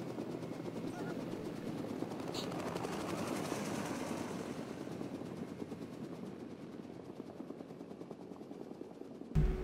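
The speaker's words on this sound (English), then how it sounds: "that looks Soviet to me, dudes. That's got a big star on it. Ruskies and their MI-24s." A Soviet Mi-24 helicopter in the Arma 3 video game thrums steadily nearby, a continuous rotor drone holding for the whole stretch with a sharp bump at the very end; voices talk faintly beneath it.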